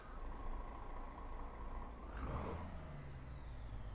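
Rumbling truck engine hum in a truck driving video game that swells and shifts pitch midway as it revs, steady and close, with no talking.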